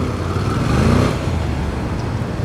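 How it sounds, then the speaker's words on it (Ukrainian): A Suzuki SV650 motorcycle engine rumbles steadily at a motorcycle gymkhana event, its deep exhaust note holding a continuous throaty drone with a slight swell midway. "От ви чуєте, оцей от вертикістий звук дуже кайфовий, реально дуже кайфовий вихлоп"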